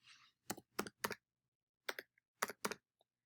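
Six-digit meeting password typed on a computer keyboard: two quick bursts of three distinct, close key clicks separated by a short pause, isolated in a quiet room.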